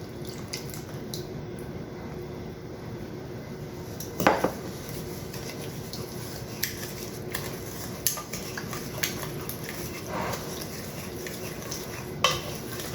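Butter is mixed in a bowl, with a steady scraping stir and occasional sharper utensil clinks against the side, close and clear, with no one talking.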